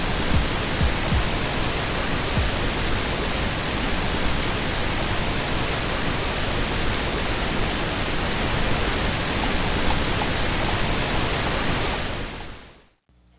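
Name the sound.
pink noise played for mixing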